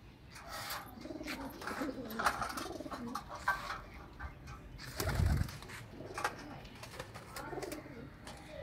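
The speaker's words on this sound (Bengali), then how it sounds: "এখন উড়ানো কবুতর সবগুলোকে ছাড়বো।" Pigeons on a rooftop coo repeatedly while being let out, with a louder burst of fluttering and scuffling about halfway through, over steady low outdoor background noise.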